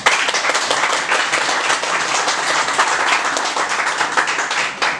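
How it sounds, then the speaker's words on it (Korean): A church congregation claps together in a dense, steady burst of applause that fills the room, holding at an even loudness from start to finish. "같이 박수를 칩시다."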